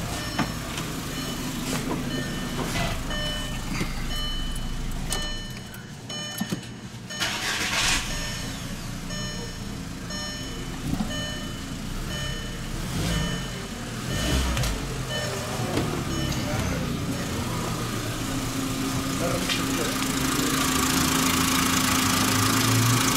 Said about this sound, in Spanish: Voy a arrancar y lo vuelvo a prender a ver.